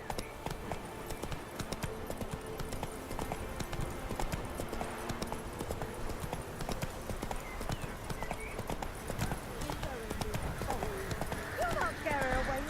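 Horse galloping in The Witcher 3 video game, a steady rapid clip-clop of hooves continuing throughout under game sounds, with a short voice near the end.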